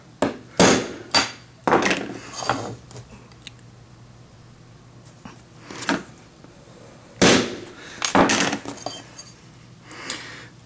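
Sharp metallic taps ring out in scattered single and double strikes, with quiet pauses between groups, as a hammer strikes a center punch to mark drill locations on a metal bar.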